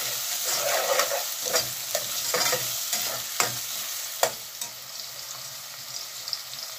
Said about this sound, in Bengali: একটু পেঁয়াজ বোনাইয়া দিচ্ছি